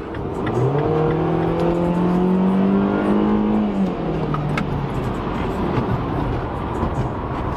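A car engine revs hard and climbs in pitch as it accelerates, then shifts and keeps pulling, loud and close, with road and wind noise.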